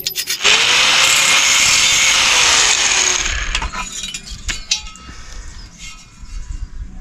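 A power tool cuts through 2-inch square steel tubing with a loud, steady whining grind for a few seconds, then winds down into scattered clanks and knocks of metal being handled nearby.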